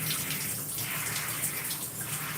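Water runs steadily from a tap or shower head while product is rinsed out of hair, a continuous close hiss and splash with no talk.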